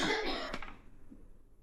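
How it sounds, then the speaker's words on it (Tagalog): A single short cough from a person outdoors while mushroom picking in Finland, a brief close burst that fades quickly into quiet. "Yan, ubo na yung tao ko."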